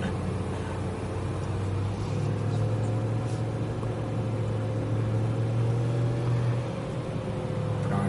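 A BMW M3 car drives along, a steady low engine hum and tonal drone under constant road and wind noise from inside the cabin, with no talking.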